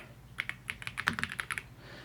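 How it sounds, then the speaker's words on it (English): Keys clack on a Redragon K687 Penumbra Pro aluminum mechanical gaming keyboard, a quick irregular burst of crisp, close strokes at moderate volume, then quiet. "And now I'm going to be typing on my MacBook Air."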